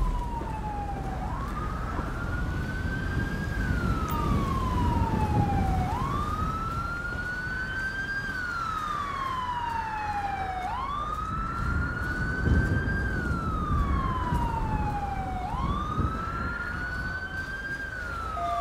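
Wailing police car siren from the GTA 5 video game, sweeping up and down in steady repeated cycles over a constant road and engine rumble, with no talk.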